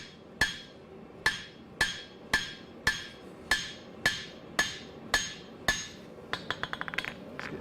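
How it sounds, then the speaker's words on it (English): Hammer blows ring out on hot steel over an anvil during the forging of a tool for a sawmill: about ten evenly spaced, loud, ringing strikes, then a quick flurry of lighter rapid taps at the end, with no talking. "I just hit one spot and move the steel"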